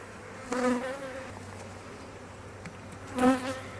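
Honey bees buzz around a heavy frame of honey pulled from a hive, a steady low drone that swells in two brief louder bursts as the frame moves, with no talking.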